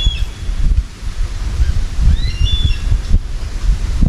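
Bird calls near a rice field: a few short, thin chirps and whistled notes, faint over low rumbling wind and rustle outdoors.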